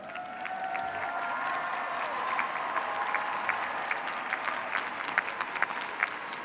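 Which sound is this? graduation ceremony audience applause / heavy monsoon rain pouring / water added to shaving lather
graduation ceremony audience applause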